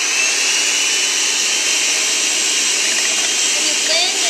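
An electric mixer whirs steadily on low, beating three egg whites toward soft peaks for meringue, a loud continuous high whine close by with no break.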